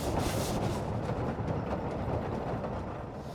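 Historic railroad train running on the Houghton County Historical Museum campus, a close, loud rumble of wheels on track with rattling cars, steady for a few seconds.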